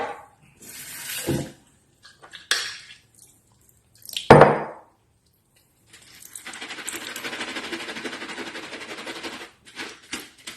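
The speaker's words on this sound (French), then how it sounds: "Là, je prends tout simplement une passoire. Et je rince." Food rinsed in a strainer under a running tap, with a few clattering knocks and a bright metallic clank first, then a steady spray of water pouring through the mesh for several seconds, close by.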